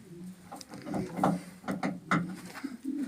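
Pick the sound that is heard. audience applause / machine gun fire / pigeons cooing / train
pigeons cooing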